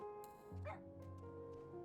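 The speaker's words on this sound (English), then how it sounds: "He barked and" A fluffy-tailed pet dog gives a few short yips and whimpers, high whiny cries with a brief bark-like burst, close by over a steady background hum.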